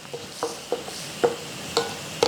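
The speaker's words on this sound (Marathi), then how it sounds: "थोडं थोडं दूध घाला, नाहीतर काय होतं ना, खूप सारे शिंतोडे अंगावर उडतात" Spoon scraping and stirring semolina sheera in a hot pan as milk goes in, a soft sizzle underneath and about six sharp scrapes spaced irregularly across a couple of seconds.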